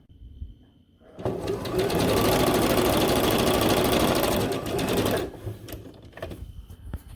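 A sewing machine stitches bug net onto underquilt baffles. After a quiet lead-in, it runs loud and close in a steady rapid chatter for about four seconds, then stops, leaving a few softer clicks and handling noises.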